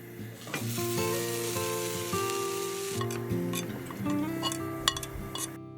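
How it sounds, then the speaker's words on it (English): Eggs with breakfast sausage and cheese crackle in a skillet during a camp breakfast on a rim in Gila County. The loud, continuous frying hiss runs with scattered light clinks of a utensil against the pan. "it was soon on to eggs, which eventually got combined with some breakfast sausage and cheese"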